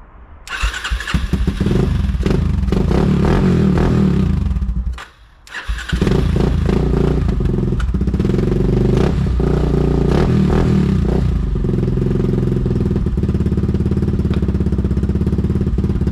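A Raptor engine cranks over and catches with a booster pack connected, then runs loud and close with revs rising and falling, a brief drop in the middle before it picks up again and settles into a steady rumbling idle.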